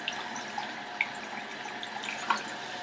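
Tap water running steadily into a sink while the temperature is adjusted, with a constant hiss and a few scattered droplet splashes.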